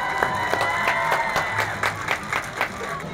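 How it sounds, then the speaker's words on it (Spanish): A parade crowd gives applause for the Girl Scouts of Orange County at a Fiestas Patrias street parade, with scattered claps and a few cheers heard at moderate distance over outdoor background noise. "Un fuerte aplauso para Girls Scouts del Condado de Orange."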